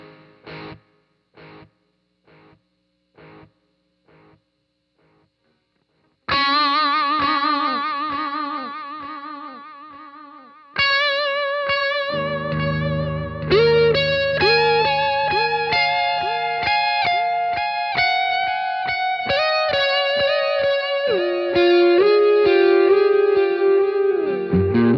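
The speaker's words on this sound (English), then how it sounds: "they call it infinite, so let's see what that does" Sparse plucked guitar notes through a Peavey Rage 258 amp's infinite delay effect, then a sustained distorted tone builds as repeating echoes stack and smear into a dense, continuous wash that never fades.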